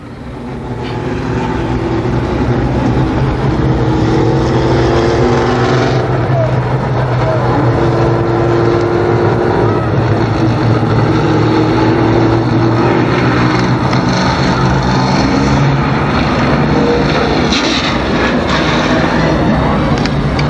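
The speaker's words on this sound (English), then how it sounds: "Four cars, 10 laps, the first late model heat race." Four late model race cars running a heat race at Columbus Motor Speedway, a loud continuous engine roar that swells and holds, heard from a distance with a voice talking over it.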